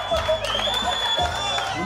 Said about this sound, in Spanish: A ver si fue un aplauso, por favor.